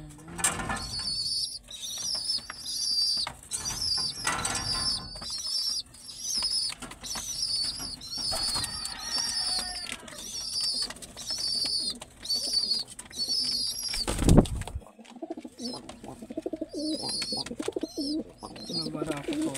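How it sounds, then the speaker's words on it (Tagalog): A pet pigeon coos in repeated soft, rhythmic calls close by, with bursts of wing flapping and a person talking intermittently. "Kalapati ko po."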